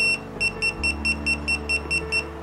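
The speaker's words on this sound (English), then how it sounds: "Press the beep button." A DOBE remote dog training collar beeps in a steady run of about nine short, evenly spaced electronic tones, close and clear over a faint low hum.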